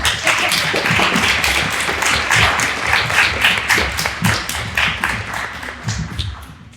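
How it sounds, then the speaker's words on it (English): Audience applause for the jury at an evening event, loud, close clapping with sharp individual hand strikes standing out from the crowd's steady patter, holding for several seconds before easing off. "we should applaud them"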